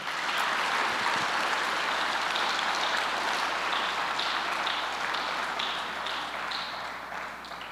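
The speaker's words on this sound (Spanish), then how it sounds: "Dale un fuerte aplauso a Dios por eso." A church congregation gives loud applause to God during a sermon, a dense, fairly close wash of clapping that holds steady and then eases slightly toward the end.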